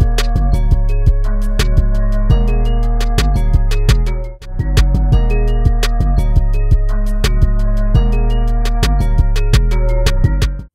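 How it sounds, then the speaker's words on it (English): A beat built from flute and pan flute lines, a bell melody and booming 808 bass, looping steadily with a brief dropout midway, loud and with no talking. "It's a flute. And then I got a pan flute in here."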